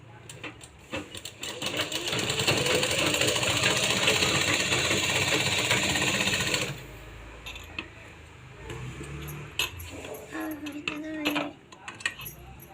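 A sewing machine runs stitches on fabric for a bunny-ear hat for a two-to-three-month-old baby: a close, steady whir for about six seconds that then stops, followed by quieter handling sounds.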